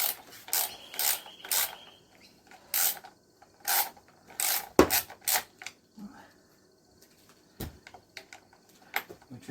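Ratchet undoing 10 mm bolts on a KLR 650 motorcycle handguard, bursts of rapid close clicking in short runs separated by pauses, with a few metallic clinks.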